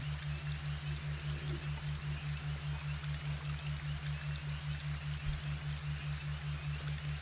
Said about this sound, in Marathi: पावसाची रिमझिम, मुसळधार पाऊस, मुसळधार पाऊस